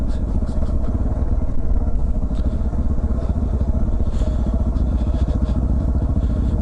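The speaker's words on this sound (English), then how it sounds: "Just in second gear. Bike's having a nice little cruise down." A dual sport motorcycle cruising downhill in second gear, its engine a loud, steady, close rumble with a throbbing low pulse that holds throughout.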